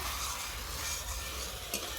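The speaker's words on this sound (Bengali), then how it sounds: "চারিদিকে তেল বুদুর বুদুর করে ফুটছে।" Oil bubbling and spitting in a pan as spices are sautéed with tomato, salt and masala, a dense close sizzle with soft stirring, brief and fairly quiet.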